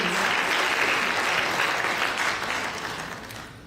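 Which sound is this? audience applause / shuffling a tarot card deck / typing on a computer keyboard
audience applause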